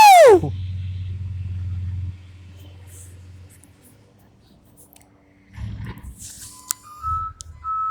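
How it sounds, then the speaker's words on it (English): Escondido Disposal garbage truck #54 in a residential street in Escondido, California, with a faulty backup alarm: a sweeping, off-key tone opens over a low idling rumble, and a thin steady beep returns near the end. "not one of the best sounding backup sounds"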